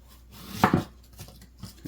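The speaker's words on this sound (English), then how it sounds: "Cut off the tip there." A knife chops through an onion on a cutting board in a home kitchen, giving one firm close thunk followed by a couple of lighter, softer taps.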